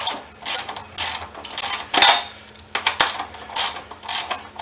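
Socket ratchet clicking in quick bursts as it snugs up the wheel nuts on a Honda CB500X motorcycle, close and crisp, with short pauses between strokes.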